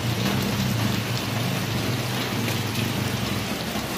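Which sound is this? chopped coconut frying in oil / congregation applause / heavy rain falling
heavy rain falling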